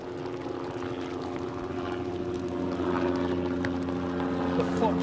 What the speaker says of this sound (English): Probably hear that chopper droning away